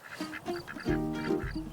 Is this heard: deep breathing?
no